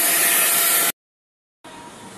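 Vacuum pump drawing down a fiberglass vacuum bag, a loud steady hiss that cuts out abruptly, falls silent, then resumes at lower volume.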